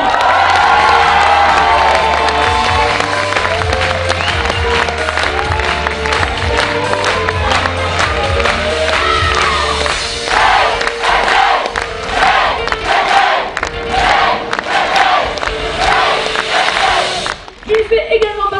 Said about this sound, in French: J'aimerais un tonnerre d'applaudissements pour tous les Calas et garçons.